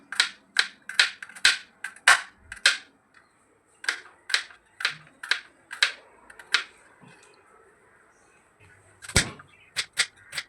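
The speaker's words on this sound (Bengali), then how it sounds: "এগুলি আমি খুব সুন্দর করে কুচি কুচি করে কেটে নেব, একদম ফাইন চপড হবে।" A knife chops capsicum, onion and garlic finely on a board, a quick run of sharp, distinct taps close by, then a short pause before another burst of rhythmic cuts.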